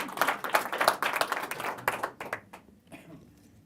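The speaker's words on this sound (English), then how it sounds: "another big round of applause" Applause and clapping from an audience at a live comedy magic stage show, loud at first and then thinning out into scattered claps before fading over a few seconds.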